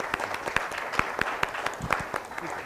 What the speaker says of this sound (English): let's give him a round of applause for his efforts